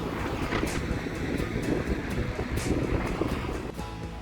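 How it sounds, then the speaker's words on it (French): Strong headwind of about 40 km/h buffeting the microphone on a cycling road trip from Marseille, a steady loud roaring rumble with gusty low-frequency blasts throughout and no voices. "c'est super dur avec un vent de 40 km/h de face"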